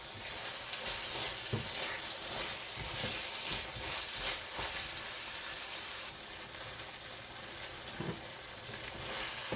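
Chicken and plenty of onions for a pepper fry crackle in a pan while being stirred. A quiet, continuous sizzle is broken by occasional soft scraping taps of the spoon.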